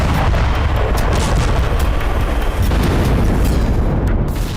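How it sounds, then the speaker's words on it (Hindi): Heavy explosions from airstrikes hitting residential buildings, a dense, continuous roar of rumbling blasts and booms, loud and sustained with no clear gaps. "जोरदार धमाकों के साथ उठता आग का गुबार।"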